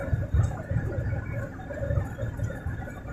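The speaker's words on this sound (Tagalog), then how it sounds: "Kaya malakas ito guys yung ugong ng sa labas dahil malakas yung sunstorm." Strong sandstorm wind roaring and rumbling outside a delivery truck cab in Hail, Saudi Arabia, a continuous low buffeting drone with uneven gusts and no speech.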